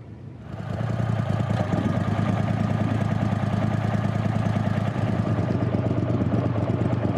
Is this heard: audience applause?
no